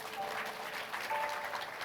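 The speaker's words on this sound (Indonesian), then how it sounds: "Tepuk tangan buat Tuhan." A church congregation applauds at a youth worship service, a dense, steady wash of many hands clapping at moderate volume for a couple of seconds.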